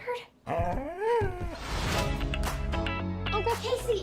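Clifford the big red dog in a movie trailer whimpers with rising and falling whines and yips, then is talked over by people speaking, with music underneath.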